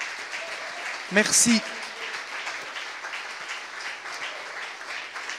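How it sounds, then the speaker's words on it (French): Church congregation at a Sunday service applauding the multimedia team, a short burst of clapping and a few cheers rising through the room, with a speaker's voice around it. "je voudrais vraiment, mais vraiment qu'on applaudisse l'équipe du multimédia"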